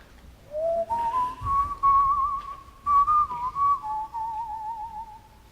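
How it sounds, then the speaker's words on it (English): A single person whistles a slow, smooth tune, the pitch rising at first and then gliding gently through a few sustained notes, clear and close. "So if you were to whistle something like,"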